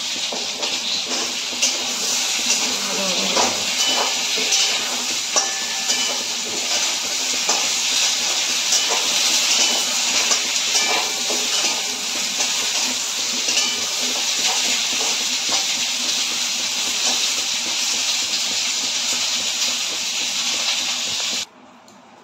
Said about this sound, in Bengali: আমি কুমড়ো আর আলুটা এর মধ্যে দিয়ে ভেজে নেব